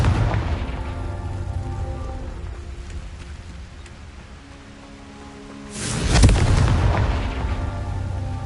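A Confringo spell blast in the video game Hogwarts Legacy erupts as a loud, deep booming explosion midway through, rising over a steady rumbling background and then trailing off into a sustained roar.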